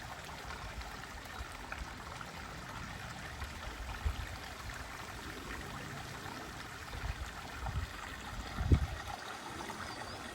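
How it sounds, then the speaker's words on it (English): Water from a garden pond waterfall runs in a soft, steady trickling wash, faint and continuous, with a few louder splashes or knocks near the end. "Now we have the sound of water"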